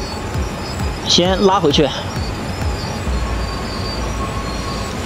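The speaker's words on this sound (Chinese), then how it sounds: "我来驾驶我的列车" A train in a railway driving simulator game rolls along with a rumbling run, and a loud, wavering squeal or horn-like tone sounds briefly near the middle. Someone speaks over it.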